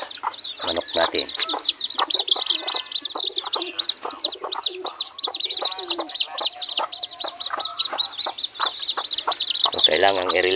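Chickens, a flock of bred roosters and hens, cluck and squawk continuously and loudly up close, with overlapping calls and chirps throughout and no talking.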